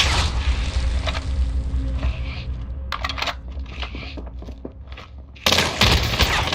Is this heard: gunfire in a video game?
yes